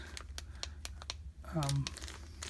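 Items in a plastic bag from a car emergency kit crinkle and rustle in short, close, irregular bursts, with a person talking briefly in between.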